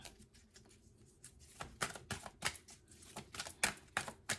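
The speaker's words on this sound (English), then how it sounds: "Some of these cards are really, really big and they're harder to shuffle." Large oracle cards from a Lyran Starseed deck being shuffled by hand, a quiet run of soft papery riffles and slaps that grow busier and more clustered toward the end, with no talking.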